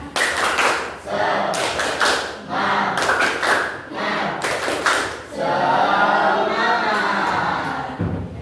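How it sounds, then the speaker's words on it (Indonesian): A group of teachers in a training session performs a rhythmic spirit clap, striking bursts of patterned claps in quick sets separated by short pauses, ending in a louder cheer-like swell of voices. "Tepuk lagi semangatnya. Tepuk semangat."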